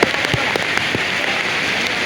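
Heavy rain falls at Raigad fort, a steady close hiss with scattered sharper drop taps and no voices.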